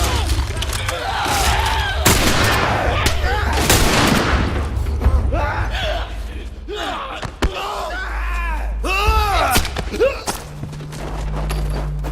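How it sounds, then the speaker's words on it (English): Rifle gunshots and combat noise in The Last of Us, with sharp loud bangs and thuds packed close together among bursts of game effects and shouting voices. "The rifle, while you're playing as Ellie, is an instant kill weapon."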